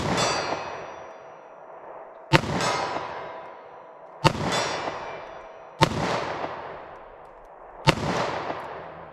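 Five evenly spaced, sharp gunshots of .38 Special +P Winchester Elite Defender ammunition ring out close by. Each crack is followed by a ringing metallic decay, with short pauses between shots.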